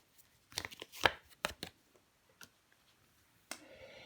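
Tarot cards slapped and slid onto a table one by one, a few crisp taps and flicks spaced apart in a quiet room, faint and close, without talking.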